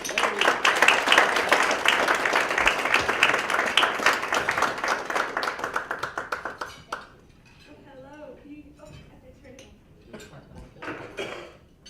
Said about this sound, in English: I would love for you to give a warm San Francisco applause for Amity Schlaes.